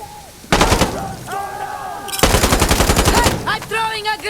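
Rapid bursts of automatic gunfire from many weapons in the video game Insurgency Sandstorm during a street defence, loud and dense with two long volleys, with game voices and tonal sound effects between them.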